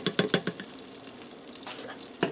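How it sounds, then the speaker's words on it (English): Soft sizzling and a few clinking stirs as jarred garlic sautés in a pressure cooker, quiet and close, with short gaps between the scraping sounds. "I'm going to allow this to saute in here for a minute till that garlic starts to get good and fragrant"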